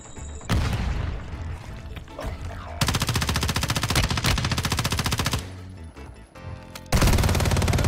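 Rapid bursts of automatic gunfire in Warzone Mobile, loud and close, broken by short pauses and a few sharper booms.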